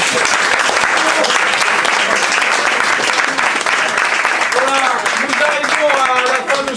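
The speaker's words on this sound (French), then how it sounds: "Franchement, vous pouvez vous applaudir, vous êtes formidables." An audience applauds at an event, with dense, steady clapping that stays loud the whole way through and a few voices calling out over it toward the end.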